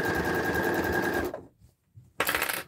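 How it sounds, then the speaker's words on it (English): A sewing machine runs fast and loud stitching fabric, stops abruptly for under a second, then starts stitching again at full speed. "Go make sure we don't sew over that length of twill tape."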